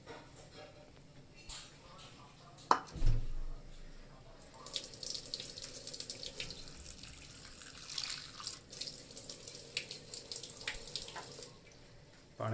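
Running water from a tap pours steadily for several seconds during washing after a soak in turmeric water, following a soft thud near the start.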